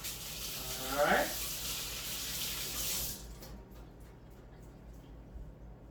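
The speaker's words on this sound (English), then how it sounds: "Now, I'm just going to go rinse these hands." Running tap water splashes over hands being rinsed at a kitchen sink during cooking, a loud steady hiss that stops abruptly after about three seconds, leaving quiet room noise with faint clatter.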